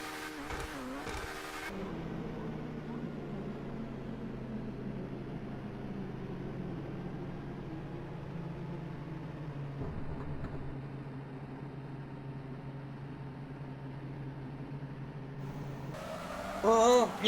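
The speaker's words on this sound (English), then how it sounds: "this thing has a 5-liter twin-turbocharged V8" Progen Emerus supercar with a 5-liter twin-turbocharged V8 of 800 horsepower in GTA 5, a sustained engine drone with shifting pitch as it accelerates, a voice talking briefly at the start and end.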